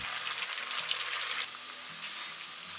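Battered cauliflower pieces fry in hot oil for crispy chilli cauliflower, a dense crackling sizzle that is loud at first and then settles into a softer, steady bubbling.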